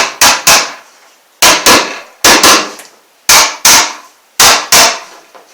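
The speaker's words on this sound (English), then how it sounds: "My little hammer tap it in." A small hammer strikes an electrical box into a cabin wall in five quick pairs of sharp, loud taps, each pair separated by a pause, with a short ringing decay after every hit.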